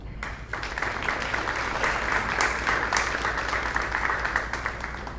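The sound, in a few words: applause as NJHS inductee comes forward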